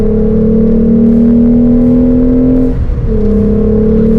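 A rear-wheel-drive Renault Clio V6 drones loudly and steadily from inside the car while driving, its engine note holding even before briefly dipping at a gear change and then resuming.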